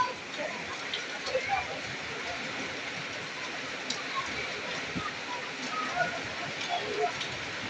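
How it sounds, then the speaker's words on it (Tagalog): Heavy rain falling outdoors beside a swollen creek, a dense continuous hiss and patter that stays steady throughout, with a voice talking faintly over it. "Malakas ang ulan."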